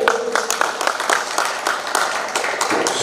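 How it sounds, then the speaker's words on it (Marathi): Spectators at a final cricket match at Bhosale Nagar clap for a bowler, a continuous patter of many hands at steady loudness across the whole stretch, with no talk over it. "मिलिंद दादा यांच्यासाठी जोरदार टाळ्या वाजवायचे."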